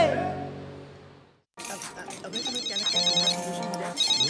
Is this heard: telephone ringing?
yes